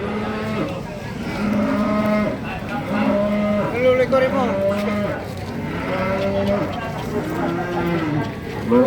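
Cattle moo repeatedly at a livestock market, several overlapping low calls one after another, loud and close, with a busy crowd murmur underneath.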